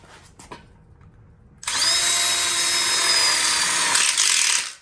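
A cordless power drill drives screws into a pizza oven support frame for an outdoor kitchen, running as one loud, steady whine for about three seconds after quiet handling noises, then stopping abruptly.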